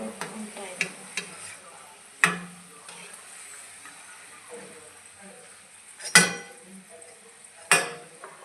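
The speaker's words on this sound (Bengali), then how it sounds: "চুলার জালটাকে মিডিয়াম রেখে এটাকে ভেজে নিতে হবে, নাহলে ভেতরে কাঁচা থেকে যাবে।" Vegetable rolls frying in oil over a medium flame make a soft, steady sizzle, broken by occasional sharp clinks and scrapes of a utensil against the pan.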